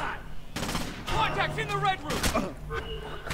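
Rapid bursts of gunfire from the stealth shooter game Splinter Cell, with shots clustering in quick sprays and several sharp broadband cracks, mixed with other game sounds at close range.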